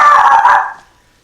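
A Morkie dog gives one loud, close, high-pitched bark that trails off quickly into silence.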